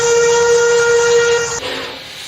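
The Mary Valley Rattler steam train sounds a loud, sustained steam whistle close by, which cuts off sharply, leaving the rumble of the running train.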